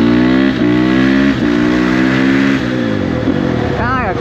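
A dirt bike engine revs hard and loud up close, climbing through gears with quick clutchless shifts marked by brief dips in pitch, while a person talks over it.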